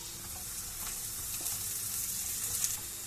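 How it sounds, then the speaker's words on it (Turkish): Steady, close sizzling of onions and peppers frying in a hot pan, a continuous crackling hiss with no voices. "Evet, soğanımız ve biberimiz kavruldu."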